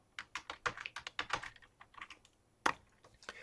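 Rapid, irregular keystrokes on a computer keyboard while registering an account, close and crisp, with one sharper key strike near the end.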